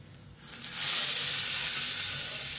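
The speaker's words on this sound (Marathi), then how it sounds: "मस्त फोडणी बसलेली आहे आपली" Asafoetida and dried red chillies crackle into a hot oil tempering for a moong dal dish, the sizzle flaring up sharply after a quiet start and holding loud and close.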